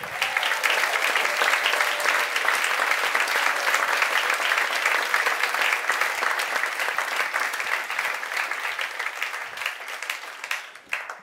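A live concert audience gives a pianist sustained, dense applause, many hands clapping together loudly and steadily before it thins and fades at the end.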